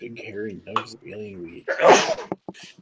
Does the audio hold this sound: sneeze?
yes